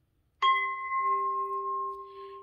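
A steady, pure sung-like 396 hertz tone with clear overtones starts abruptly and holds evenly for about two seconds, loud and alone.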